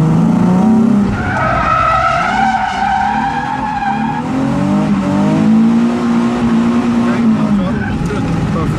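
Drift car tires skid and squeal loudly at a drifting school track, wavering pitched screeches rising and falling continuously over engine noise for several seconds, with people talking nearby.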